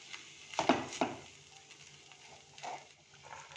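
A spoon mixes mashed boiled eggs into a potato and vegetable mixture in a pan, giving a couple of soft scraping knocks, then quieter stirring and clinks, close and moderately loud.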